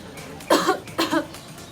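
Two distinct coughs in quick succession, each a short harsh burst, fairly close and clear against a quiet background with no talk.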